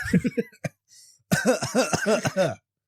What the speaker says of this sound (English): let me just cough over the table there